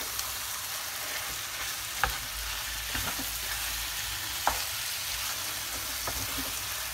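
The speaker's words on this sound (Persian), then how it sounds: "ولی خیلی مهمه که این رب تف بخوره و صاف بشه" Tomato paste sautéing in a hot pan while making Indian biryani, a steady crackling sizzle with occasional clinks of a utensil stirring against the pan.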